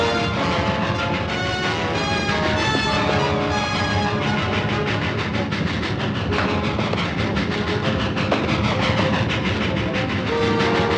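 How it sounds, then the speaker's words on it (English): A loud, continuous rumble of a train rolling past, with rhythmic clatter and metallic tones that stay steady throughout. "The train's already gone through the junction."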